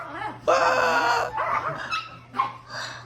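Several dogs whimper, yip and whine in short overlapping bursts, fairly close, with a steady low hum beneath.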